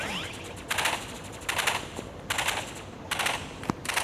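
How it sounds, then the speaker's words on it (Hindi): Burst rifle fire in the video game Rivals: short rapid bursts of shots repeating roughly every 0.8 seconds, crisp and close over a steady low background hum. "फिर अपनी बर्स्ट राइफल, मैं अभी आपको बर्स्ट राइफल से ही दिखाता हूँ।"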